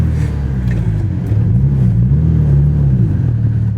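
A Mitsubishi Lancer Evolution VIII engine drones steadily from inside the cabin, its low hum rising and falling slightly as the car drives along.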